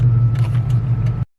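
An Infiniti G35's V6 engine idles close by with a steady, deep hum for about a second, then cuts off abruptly into silence.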